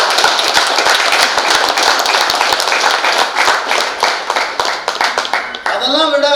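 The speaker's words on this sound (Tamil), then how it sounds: "அத்தனை பேரையும் ஒரு நல்ல கைத்தட்டல் கொடுக்க பார்க்கலாம்" An audience at a women's day celebration claps steadily and loudly, a dense crowd of hands sustained throughout, and a voice comes in right at the end.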